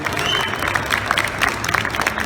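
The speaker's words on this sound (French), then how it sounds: "Je vous demande de l'applaudir bien fort quand même pour l'initiative de la Guyane." Audience applause after a call to honour an initiative from French Guiana, a dense wash of clapping from a crowd that holds steady for the whole stretch, with scattered louder claps and faint voices mixed in.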